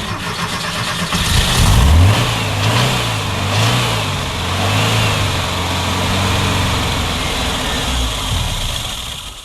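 A 1966 Porsche 912 engine revs up and down repeatedly, low rumbling pitch rising and falling, close and loud, with no speech.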